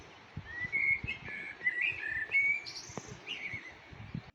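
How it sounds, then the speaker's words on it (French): A blackbird sings outdoors, fluting whistled phrases rising and falling at moderate distance over soft background noise and a few faint thumps. "Nous avons été accueillis par le chant d'un merle."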